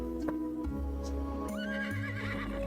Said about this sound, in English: hops on a horse in a swift acrobatic motion.